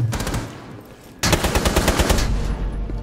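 Rapid automatic gunfire from the tactical shooter Rainbow Six Siege, a quieter burst followed by a sudden loud, sustained stretch of close rattling shots lasting a couple of seconds.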